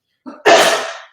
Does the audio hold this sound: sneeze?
yes